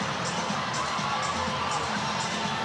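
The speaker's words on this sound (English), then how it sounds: "Crowd going absolutely bananas in Sydney." A basketball arena crowd in Sydney at a FIBA Women's Asia Cup game between China and Korea roars and cheers steadily with scores level and seconds left, a dense, continuous wall of sound with no clear gaps.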